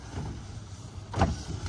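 Motorized tonneau cover on a Rivian R1T pickup, worn and struggling, giving a faint low motor whir with a couple of soft mechanical clunks, close by and with no talk.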